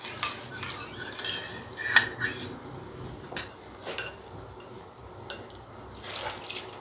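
A spoon stirs dhokla-idli batter ingredients mixed with water in a bowl, producing quiet wet sloshing and intermittent clinks of metal on the bowl.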